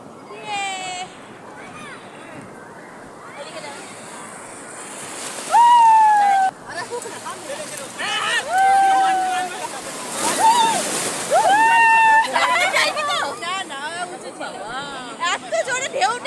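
Sea waves surge and splash at Digha beach, with several loud swells washing in among a lively crowd of talking voices; people speak close by throughout.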